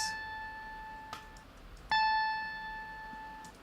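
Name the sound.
guitar note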